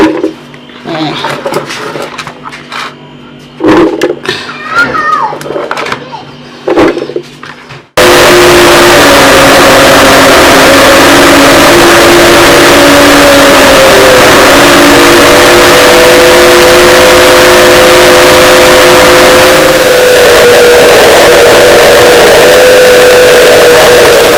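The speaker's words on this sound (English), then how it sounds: "I have to start blending my plantain so I can drive it." A blender whirring through plantain for village fufu, a loud continuous motor drone with a shifting pitch that starts abruptly after several seconds of softer clatter and background noise.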